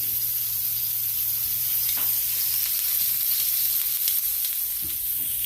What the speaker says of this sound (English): First, we fire roast the peppers and the tomatillos.